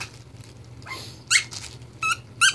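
Playful puppies give short, high squeaks and whimpers in a few quick bursts close by, over a low background hum.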